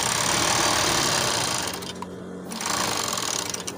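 An industrial weaving machine running on lycra fabric, a loud steady mechanical whir with rapid stitching rhythm that dips briefly in the middle and then resumes.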